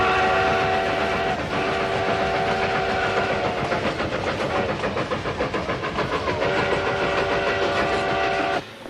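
A train in a Western film rolls along with rhythmic clickety-clack and a sustained whistle that sounds several times, loud and close, until it cuts off near the end.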